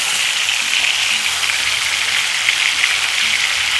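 Chicken pieces for Jamaican brown stew chicken fry in hot oil, a loud, close, steady crackling sizzle that keeps up without a break, no voices over it.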